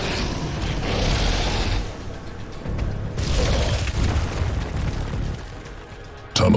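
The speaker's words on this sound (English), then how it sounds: "Local organism, ashworm, destroying swarm brood." An ashworm in StarCraft 2: Heart of the Swarm tears through swarm brood, heard as loud rumbling bursts and crunching impacts in waves, with a sudden sharp hit at the very end.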